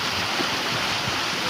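Flood water rushes through a village in Odisha, a steady, close, broad roar of moving water that holds unbroken throughout, with no voices.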